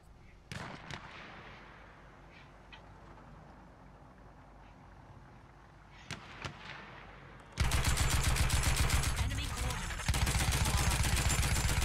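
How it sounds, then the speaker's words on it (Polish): Heavy gunfire and explosive blasts from a Battlefield 1 Rush match as a tank fires at the player, with scattered early shots, then a loud sustained barrage of rapid fire and booms dominating the last few seconds. "Chyba do mnie czołg strzela."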